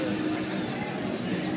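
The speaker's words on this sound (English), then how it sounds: "then it's a 3D printer" A 3D printer runs steadily at a busy gadget trade show, giving a continuous mechanical whir with a low hum and faint rising and falling stepper-motor tones.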